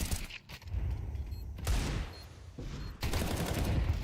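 Gunfire in a Counter-Strike 2 match at a professional esports event, bursts of rapid shots blending into a dense roar with a sharp burst near the end, fairly distant and under crowd-like background noise.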